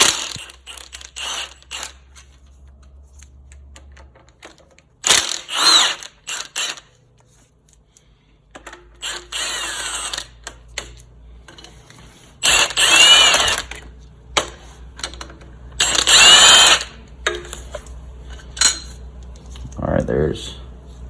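A hand ratchet works loose the AC bracket bolts on a 3.4 L Toyota 4Runner engine, coming in several bursts of quick metallic clicking separated by quiet gaps, with tool clanks and light handling noises between.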